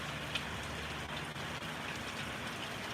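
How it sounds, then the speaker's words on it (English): Tropical storm rain pours steadily, a dense, constant hiss of drops on surfaces with no break or variation, moderately loud and without voices. "It's a tropical storm"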